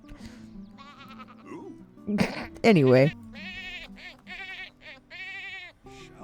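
Goat bleating on a ranch, several loud wavering calls close by with a strong burst near the middle, while a person talks throughout.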